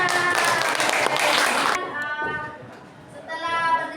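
Students in a high school classroom give a burst of clapping that stops after about two seconds, then voices talk over a quieter room.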